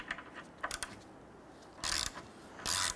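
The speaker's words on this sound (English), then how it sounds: "We're going to go ahead and remove our two studs from our catalytic converter using an inverted Torx bit number" An inverted Torx bit number 10 works studs loose from a catalytic converter flange on a Nissan Frontier, producing light metallic clicks followed by two short bursts of ratcheting.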